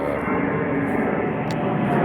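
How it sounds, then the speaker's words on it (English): A jet aircraft passing overhead, a loud, steady broadband engine roar that fills the whole clip outdoors, with no talk over it. "Look, we got a jet coming out of the phone's picking that up."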